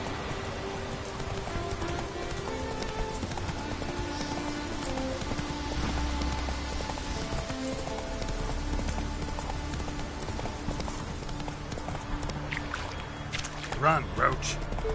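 Horse hooves galloping on a mount in The Witcher 3 video game, a steady rhythmic clip-clop beneath game music and ambient sound, with a voice briefly speaking.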